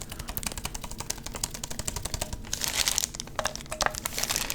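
Plastic wrap crinkled and crumpled up close in a quiet room, a dense run of sharp crackles and rustles that swells louder partway through, no talk.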